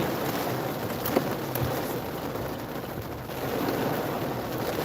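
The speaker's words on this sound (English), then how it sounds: "this rain is crazy." Heavy rain pours steadily as a dense, even hiss that fills the whole stretch, loud and close, with no voices heard.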